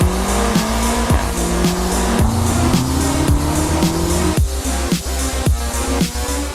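A 2018 BMW M5 (F90) sports sedan engine revs hard and fast, climbing through gears with sharp shifts, while tires squeal loudly.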